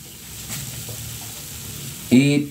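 Cooking oil heats in a pan before sautéing, a soft steady sizzle that jumps in a sudden louder burst near the end, with a brief voice at the close.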